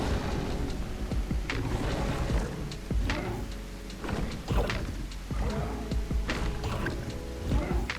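Thunder rolls through a storm in The Isle video game, with heavy low rumbles and sharp cracking bursts recurring over a steady wash of rain, loud and close throughout.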